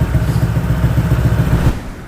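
A loud, close Honda ADV 160 scooter with a Kenshi Hanzo aftermarket exhaust revs with a deep, throbbing exhaust rumble for about two seconds, then cuts off abruptly.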